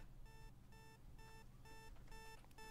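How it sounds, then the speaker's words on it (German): An alarm clock rings in a spooky night-shift game set at a kebab shop, repeating short bright electronic beeps in steady bursts over a low background hum, no voices. "Wo bimmelt hier ein Wecker?"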